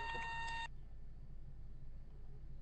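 A phone gives one steady electronic beep lasting about half a second, moderately loud, then cuts off leaving only faint background hum.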